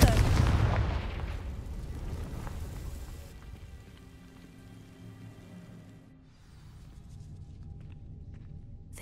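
A Confringo fire spell bursts in Hogwarts Legacy, setting dry vines alight with a loud, close blast that decays into crackling and fading rumble over several seconds.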